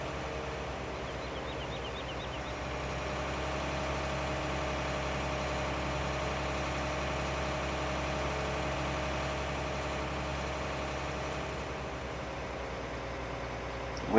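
Steady tractor engine in Farming Simulator 19, idling or pulling at a constant low drone with a continuous hum and faint hiss, unchanging throughout and without any talk.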